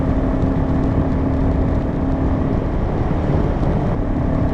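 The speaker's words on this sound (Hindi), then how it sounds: "इतना विंड ब्लास्ट आ रहा है।" Steady roaring wind blast buffeting a rider on a Honda NX500 motorcycle at highway speed in sixth gear, a dense continuous rush with a low drone beneath, loud and unbroken.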